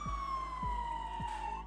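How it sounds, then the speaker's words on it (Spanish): A siren wails in a long, slowly falling tone with strong overtones, steady and fairly loud, while low thumps recur about every half second underneath it. "el sonido de un trueno pronto puede ser seguido por el aullido de una sirena de ambulancia."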